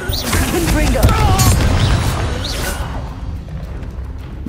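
A Confringo explosive curse blasting in the Hogwarts Legacy game, a heavy booming impact with crackling debris and a fading rumble after a short spoken spell word.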